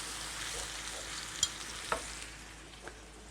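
Tomato puree and seasoning fry quietly in a pan, a soft low sizzle broken by a few light clicks of the spoon against the metal.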